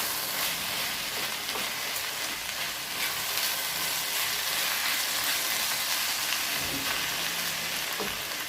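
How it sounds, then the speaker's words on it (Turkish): Red lentils stirred into a purslane dish in a pot, with a continuous hiss of sizzling throughout and faint scrapes of the spoon, close and steady, no talk. "Bunu da ilave ediyorum. Şöyle biraz karıştırıyorum."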